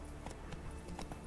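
Roach, the horse in The Witcher 3, gallops through a forest, quick rhythmic hoof clops thudding several times in just over a second, moderately close and steady.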